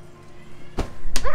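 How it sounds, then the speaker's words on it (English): An air cannon fires at an interactive exhibit in the MOXI museum in Santa Barbara, California, giving two sharp, close whumps less than half a second apart after a quiet lead-in. "Now we're going to blast each other with an air cannon."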